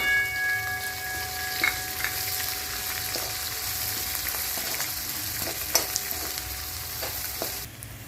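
Onions and green chillies sizzle in hot oil with peanuts in a pan for mango pickle fried rice, a continuous close hiss broken by occasional stirring scrapes and clinks, no talk.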